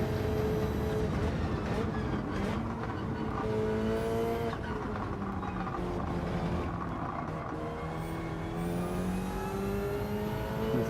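Subaru BRZ racing at Suzuka in Gran Turismo with traction control off, its engine droning steadily and rising and falling through gear changes, loud and continuous with no talk over it.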